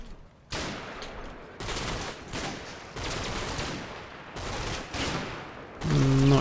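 Heavy machine gun fire in the WWII Normandy wargame Combat Mission: Battle for Normandy, several sustained rattling bursts separated by short pauses, moderately loud and steady.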